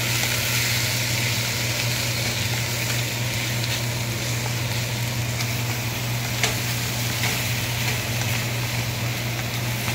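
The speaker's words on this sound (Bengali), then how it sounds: "এবার এটাকে মশলার সাথে ভালো করে কষিয়ে নিতে হবে।" Boiled soybean chunks sautéed with spices in a pan give a steady, close sizzle and fry hiss over a constant low hum, continuous for the whole stretch with faint scraping now and then.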